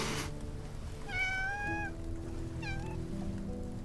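A cat in the video game Love and Deepspace meows twice, a long rising-falling call followed by a shorter one, over a steady low background of game music.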